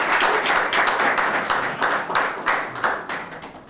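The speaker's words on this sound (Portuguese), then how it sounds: "Um aplauso para o Double D," An audience at a rap battle event claps for the rapper Double D in a short, lively burst of close, sharp hand claps that tapers off toward the end.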